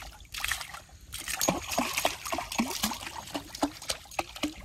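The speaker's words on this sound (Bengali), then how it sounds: "একটু জল নিয়ে নি, বসে বসে ভাই।" Water is scooped and poured by hand beside a village canal for kneading dough. It makes a close series of rhythmic splashes and trickles, about one every half second, with a little faint background talk.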